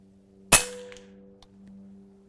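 Single shot from a JKhan Krosa Noblesse .25 air rifle with a shrouded bull barrel and internal baffle: one sharp, close crack that dies away quickly, followed by a faint mechanical click.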